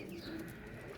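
Pigeons cooing at a breeder's loft, a soft low murmur of coos, faint and continuous over a brief moment.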